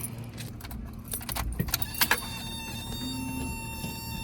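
Keys jingle and clack in the ignition of a Toyota Corolla TE72, followed by a short electrical whir and a low engine-like drone, all close inside the car with no voices.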